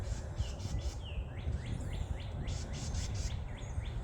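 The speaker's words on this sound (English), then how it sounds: "Some sort of bird, maybe." An unidentified bird in a Kentucky forest gives repeated short, high chirping calls at a steady pace, moderately near, over a low rumbling background hum.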